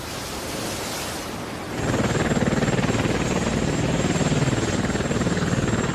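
A helicopter's rotor thrum starts up after a rush of wind noise, a steady loud beating drone with a thin high whine above it.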